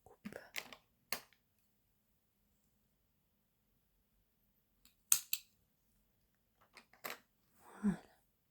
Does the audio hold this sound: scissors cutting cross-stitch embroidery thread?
yes